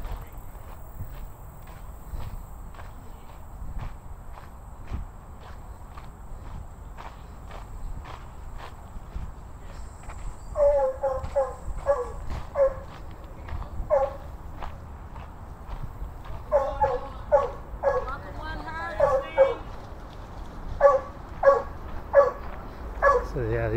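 Dogs romping through water on a flooded riverside path near Washington, D.C.: steady paddling and footstep-like patter, then bursts of sharp barks and yips mid-clip and toward the end, with people talking nearby.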